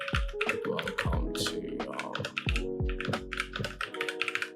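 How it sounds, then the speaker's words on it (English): Typing the word "welcome" on a computer keyboard: several short bursts of close, crisp key taps with brief pauses between them, and no talking. "I'm gonna just type in welcome"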